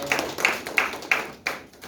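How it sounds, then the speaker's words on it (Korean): A church youth-service congregation claps for members' birthdays, a steady run of about five evenly spaced handclaps over a soft room background, with no talking. "우리 박수 한번 쳐줍시다."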